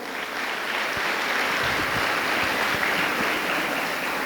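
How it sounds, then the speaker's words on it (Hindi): An audience at a motivational Hindi poetry gathering claps steadily, a dense, continuous wash of applause that holds at an even level throughout. "ढंग से तालियां बजाइए।"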